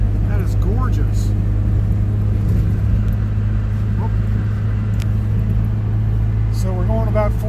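A car with a two-stroke engine cruises along a road near Mount Hood at about 40 miles an hour, its steady low engine rumble and road noise filling the cabin while a person briefly speaks over it.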